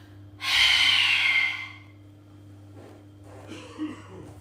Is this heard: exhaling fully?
yes